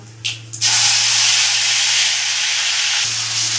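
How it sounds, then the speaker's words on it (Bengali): Garlic paste hits hot oil already tempered with whole dried red chillies and cumin, bursting into a loud, steady, close sizzle after a couple of brief clinks; the sizzle holds evenly through the rest of the clip with no voices. "এবার তেলের মধ্যে আমি 1 চামচ রসুন বাটা দিয়ে দেব।"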